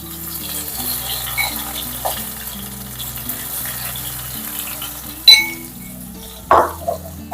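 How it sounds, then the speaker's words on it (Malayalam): Prawns shallow-fried in a pan give off a steady low sizzle, with occasional clinks of a utensil against the pan and a couple of louder scraping stirs near the end. "അപ്പൊ 2 പ്രാവശ്യമായിട്ടാണ് ഞാൻ ഇതൊന്ന് ഫ്രൈ ചെയ്തെടുക്കുന്നത്."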